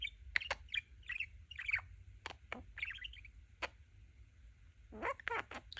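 A budgie parakeet chirps and squawks in a series of quick, bright calls spread unevenly across the moment, close and fairly faint, over a low steady background hum with no talking.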